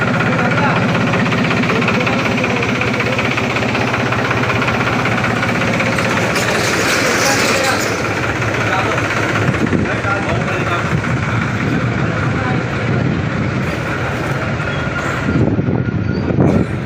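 A tractor engine runs in a steady, loud, close rumble the whole time. Voices talk over it now and then.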